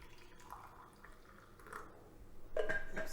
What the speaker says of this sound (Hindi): थोड़ा सा गर्म पानी डालिए,